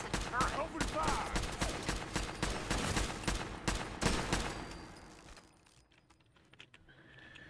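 Rapid gunfire in the video game Fallout 4, a fast string of sharp shots fired at a steady rhythm that stops midway, leaving quieter background noise.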